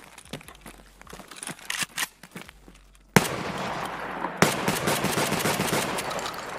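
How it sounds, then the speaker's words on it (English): Shotgun blasts in Escape from Tarkov, a burst of sharp close reports followed by a dense, sustained roar of rapid firing that fills the last few seconds. "I want to test the shotgun"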